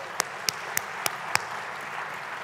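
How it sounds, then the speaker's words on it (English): Applause from the audience at the World Bank-IMF 2023 Annual Meetings plenary in a large hall: a steady wash of clapping with five sharp, evenly spaced nearby claps in the first second and a half, then a softer, even texture. "Okay, senior management, a round of applause for them."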